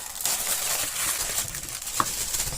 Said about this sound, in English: they are the crinkliest bags known to man